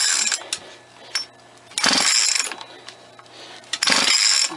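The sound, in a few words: compression gauge falling off motorized bike engine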